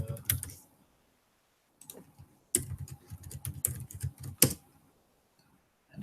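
Bursts of quick, light clicking from a computer keyboard come and go in short clusters, fairly close and quiet, with silent pauses between runs of keystrokes and no talking.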